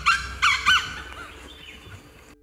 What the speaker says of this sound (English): The Grey Junglefowl.